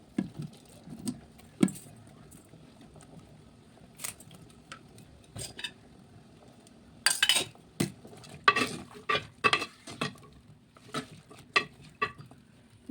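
Spoon scraping and tapping against a pan while pumpkin with salt, curry leaves, turmeric and green chillies is stirred, scattered short knocks over a faint low hiss, busier toward the end.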